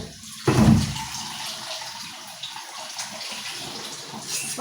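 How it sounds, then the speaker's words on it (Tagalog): A splash of water goes into a pot of potatoes, a brief gush followed by a softer, steady trickle and slosh at close range, with no talking. "lagyan ng konting tubig para lumambot ang potatoes"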